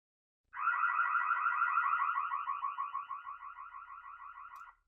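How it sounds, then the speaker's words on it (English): A burglar alarm tone plays through a Hikvision IP speaker: one warbling siren for about four seconds, steady at first, then pulsing more choppily before cutting off, with silence on either side. "there's our burglar alarm one that I created earlier on"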